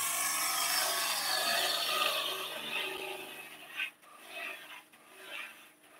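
A bowl gouge held on its side cuts wood on a spinning lathe while turning a folding bauble, making a continuous close hissing scrape that softens and breaks into short uneven strokes near the end.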